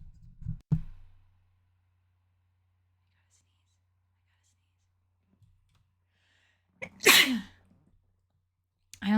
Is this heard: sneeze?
yes